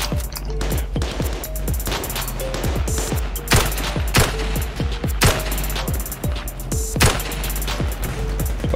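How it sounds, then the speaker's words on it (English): Machine gun fire rattles through a firefight in the VR shooter Zero Caliber: rapid, loud, close bursts of shots in quick succession, with sharp reports repeating throughout. "Oh, he's on a machine gun."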